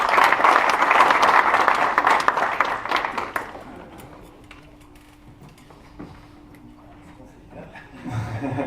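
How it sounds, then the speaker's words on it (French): An audience applauds at a sports club's partner evening, a dense, fairly loud burst of clapping for about three seconds that then drops away into quiet room ambience with a faint steady hum. "Applaudissements, s'il vous plaît."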